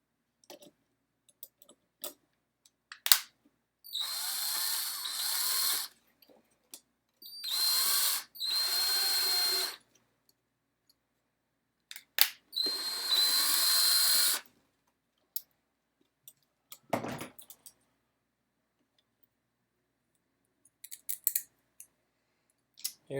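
Power drill driving screws into a keyboard, three steady whirring bursts of a few seconds each separated by pauses, with scattered clicks and handling taps between them, close and fairly loud, no talking.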